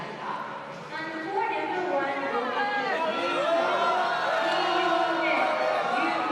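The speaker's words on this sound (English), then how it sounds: "So the crowd's volume rises as the players make their way to the court" Crowd in a badminton arena at the Thomas and Uber Cup cheering and chattering as players walk out to the court, a steady roar with scattered whoops that swells over a few seconds.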